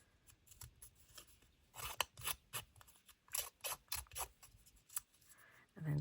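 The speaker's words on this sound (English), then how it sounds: "And then I'm going to get my trusty scissors" Scissors snip through paper in a junk journal craft session: a series of quiet, crisp close-up cuts in uneven rhythm, about a dozen distinct snips, with no talk.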